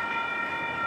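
An electronic crossing bell, a Western Cullen Hayes E-bell type 2, sounds at the Franklin St railroad crossing as the gates activate, giving a steady, bright ringing tone held throughout the brief moment, with no one talking.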